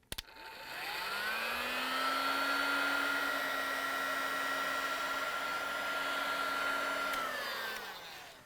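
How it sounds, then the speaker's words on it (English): A heat gun whirs steadily for about seven seconds, warming the back of a Frigidaire/Electrolux refrigerator dispenser cover overlay to soften its glue, with a clear motor tone that spins up and winds down at each end. "I'm going to use the heat gun. We're going to soften the glue at the back of it"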